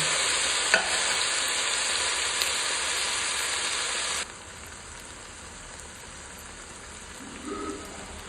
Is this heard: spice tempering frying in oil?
yes